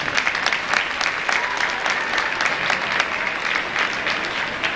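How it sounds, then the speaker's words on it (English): An audience applauds in a high school gym after a drumline and guard performance, a dense run of many hands clapping that fills the room evenly throughout. "I think that deserves a big applause"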